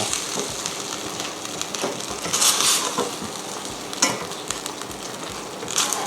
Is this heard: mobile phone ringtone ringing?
no